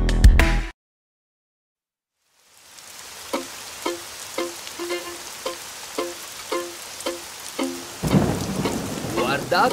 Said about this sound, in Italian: Guardate quanta pioggia!